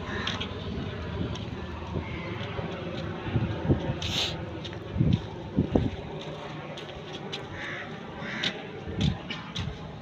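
Crows caw repeatedly in the open air near a lapsi tree, a few harsh calls rising over steady wind noise and rustling, at moderate distance.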